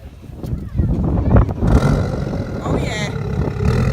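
A BMW X6 engine cranks and fires up with a deep roar that settles into a rumbling idle, close by, with brief talk over it.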